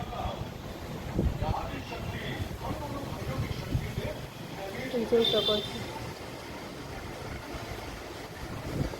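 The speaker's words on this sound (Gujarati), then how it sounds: "ફૂલ પવન છે" Gusty wind roars and buffets the microphone during a summer storm with lightning and hail, with a person speaking over it and a faint splash of water in the background.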